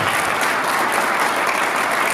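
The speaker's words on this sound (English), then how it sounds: "Join me in give Jeff and Alan a big round of applause again." A big audience applauds at a football team announcement event, dense continuous clapping filling the room at steady loudness with no voices on top.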